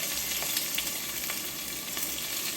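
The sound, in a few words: onion stir-frying in a pan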